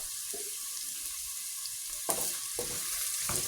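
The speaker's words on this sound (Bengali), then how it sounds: "এখন এতে কাঁচামরিচ কুচি যোগ করছি।" Chopped green chilies and onion sizzle in a hot pan for green bean bhaji, a steady hiss with a few sharp spatula clicks and stirring scrapes near the end, close and without voices.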